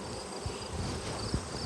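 Honey bees buzz steadily around hive frames as they are brushed off the honey frames of a nuc, a dense continuous drone close to the hive with faint brushing bumps underneath.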